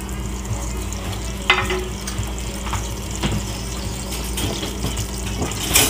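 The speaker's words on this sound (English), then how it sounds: "And you see how it's bubbling in that nice oil?" Flour roux browning in hot oil for gumbo, bubbling and sizzling in the pot with occasional stirring scrapes, a steady close frying hiss throughout and no talking.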